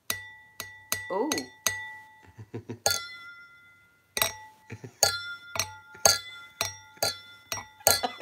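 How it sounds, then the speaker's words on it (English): Glasses clink together in a celebratory toast, a quick series of bright, ringing chinks in close succession, with a brief exclamation and voices around them. "We were clinking."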